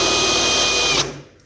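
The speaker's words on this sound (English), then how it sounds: "I bought these spot weld drill bits from Amazon or AliExpress or something" A power drill fitted with a spot weld drill bit whines steadily as it cuts thin car sheet metal on an XB Falcon ute, then abruptly stops and winds down; close and loud, no talk.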